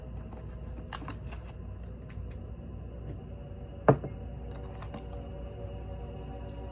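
Karma cards for a tarot-style reading are shuffled by hand in soft, quick riffling flutters, with one sharper slap of the deck partway through, close and quiet with no talk.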